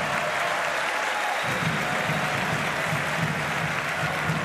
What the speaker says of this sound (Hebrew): כפיים לטייגר.